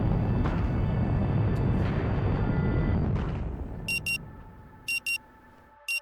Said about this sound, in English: The frenetic sound of the alarm nudges you back to the present.